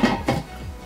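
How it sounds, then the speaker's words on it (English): A lid goes onto a Michelangelo non-stick frying pan with two quick metallic clinks close by, followed by a short fading rattle as it settles. "If you guys put the lid on top,"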